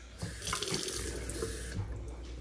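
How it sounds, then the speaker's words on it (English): Tap water runs steadily into a plastic bottle of knockoff dish soap in a kitchen sink, a continuous close splashing rush with a slight rise in pitch as it fills, with no talking. "Just put in water, shake it up."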